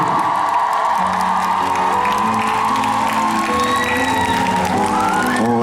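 A concert crowd at a year-end show applauds and cheers for the band and staff, steady clapping and whoops spread under sustained music.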